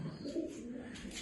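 Low, soft cooing of pigeons, a steady murmuring drone that carries on throughout, fairly quiet and close.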